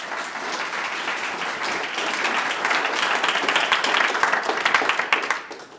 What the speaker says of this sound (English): So please do give the Angel Film Awards a round of applause.